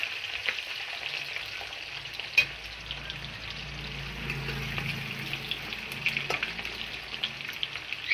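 Chopped onion and garlic fry lightly in a pan as the base for mutton kosha, giving a soft, steady sizzle with occasional small clicks and stirring noises.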